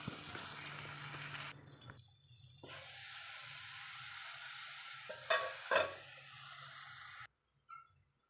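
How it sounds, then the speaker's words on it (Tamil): Onion, brinjal and tomato sautéing in a pan for brinjal masala, a steady close sizzle with spoon stirring and a few clinks, broken by brief quiet gaps. "வெங்காயம் வதங்கின பிறகு கத்திரிக்காயும் தக்காளியும் கூட சேர்த்துக்கணும்"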